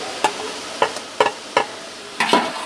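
Chicken frying with tomatoes, green chillies and salt in a pot for Punjabi chicken yakhni pulao, stirred with a utensil: five or six sharp scraping clinks spaced about a second apart over a soft sizzle.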